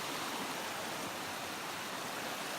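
Richland Creek on the Ozark Highlands Trail flows in a steady, close rush of water that fills the whole clip with constant broadband noise and no voices.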